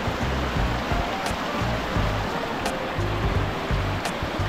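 A flowing stream at a summer spot in Bongabon, steady loud rushing and splashing water close by with no pause.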